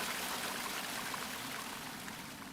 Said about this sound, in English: A little bathroom here, I guess. With pouring water.